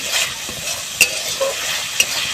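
Chicken pieces frying and being stirred in a pan for a chicken Maggi dish, a loud continuous hissing sizzle with a couple of crisp utensil clinks against the pan, no speech.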